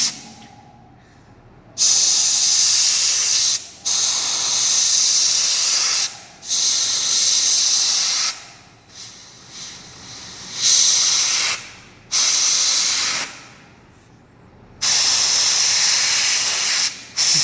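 A compressor-driven spray gun painting a Ganesh idol sprays in long, loud hissing bursts, about seven of them, each separated by brief pauses, close and with no voice over it.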